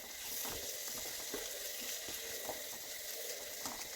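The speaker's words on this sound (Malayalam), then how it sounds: "അതിൻ്റെ ഇതൊന്ന് ഇളക്കി കൊടുക്കാം" Coriander powder is stirred into a spicy crab curry masala frying in a pan, with a constant hiss of sizzling oil and faint, irregular scraping of the spoon.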